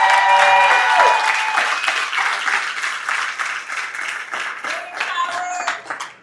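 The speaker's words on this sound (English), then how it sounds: "Give her a round of applause." An audience at an annual leadership wildfire summit breaks into loud, sustained applause that slowly fades over about six seconds, with cheers and voices mixed into the clapping.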